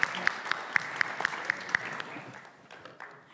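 A shipping finance conference audience claps in a steady, evenly spaced rhythm of sharp beats, which loosens into scattered, fading applause toward the end, with no talking over it.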